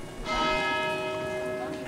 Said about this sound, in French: La cathédrale possède pas moins de 7 cloches, dont 3 pour l'horloge civile et 4 pour la volée.